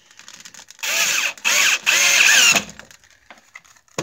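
A small corded electric drill whines in three short, loud bursts close to the microphone. A brief pause separates each run, and quiet handling noise follows.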